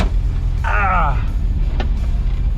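An 80s Mazda pickup's engine idles loud and steady throughout, a long-abandoned truck running rough after 30 years, with a brief whining chirp partway through.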